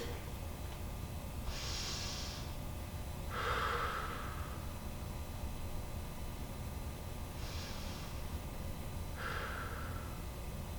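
Slow deep breaths during a stretching routine come close and clear: two long inhales and exhales, a pause, then two more, each an airy whoosh over a quiet background with no talking.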